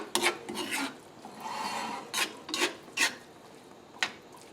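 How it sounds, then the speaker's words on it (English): Thick smoked pork rice pilaf being stirred as Parmesan cheese is mixed in, giving close, rasping scrapes of a spoon against the pot in short irregular strokes, with quieter shuffling between them. "I'm going to get my cheese mixed in well"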